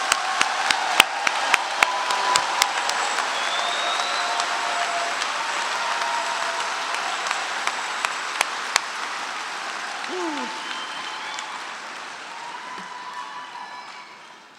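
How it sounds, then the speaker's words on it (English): A graduation crowd for the College of Natural Resources claps for graduates, a broad steady patter of applause with a few sharp individual claps early on, slowly fading out at the end. "please just give a great round of applause for all of the graduates for the Center for Geospatial Analytics"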